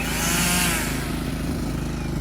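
An EGO battery-powered weed eater runs close by, a loud high-pitched electric whine that spins up and then holds steady, with no talking.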